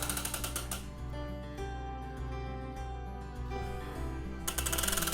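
A chain runs through a motorized kinetic sculpture built from bicycle wheels with a Ringley hub and fat aluminum rims, giving a steady, close mechanical clatter and whir with a brief sharper rattle near the end.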